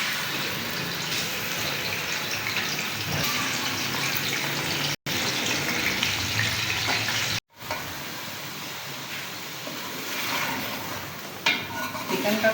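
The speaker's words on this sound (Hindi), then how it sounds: "ऑयल में हम चिकन फ्राई कर लेंगे।" Chicken pieces fry in hot oil for a Pakistani aloo gosht curry, a dense continuous sizzle with stirring scrapes, briefly cut off twice, fairly close and loud.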